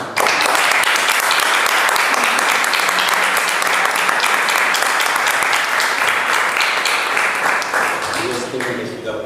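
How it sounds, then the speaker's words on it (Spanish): A lecture audience gives sustained, loud applause after a talk on the Holy Grail myth and legends, dense steady clapping filling the room for the whole stretch and tapering slightly at the end as a voice begins. "Y este merecido aplauso que dan nosotros."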